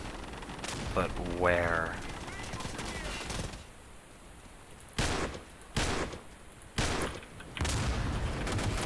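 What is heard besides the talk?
machine gun fire in the video game Day of Infamy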